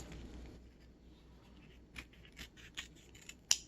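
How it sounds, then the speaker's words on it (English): Scissors snip off excess ribbon while a bow is made for a craft project, several short quiet cuts near the end, the last one sharpest, with faint handling noise before. "So I'm going to cut the excess."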